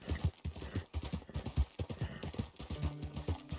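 A horse in the video game Red Dead Redemption 2 gallops with quick, rhythmic hoofbeats, soft and steady, as a faint tonal game sound joins near the end.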